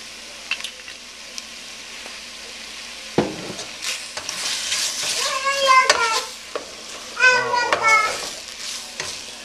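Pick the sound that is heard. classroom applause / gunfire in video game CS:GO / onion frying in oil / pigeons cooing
onion frying in oil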